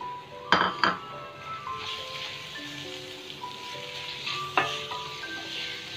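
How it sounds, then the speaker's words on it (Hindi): Chicken mince hits a pan of fried onions with a clatter, then sizzles and fries steadily, with a few sharp clinks of a utensil against the pan near the start and again later. "प्याज को हम इतना सा फ्राई करने के बाद अब इसमें हम चिकन का कीमा ऐड कर देंगे"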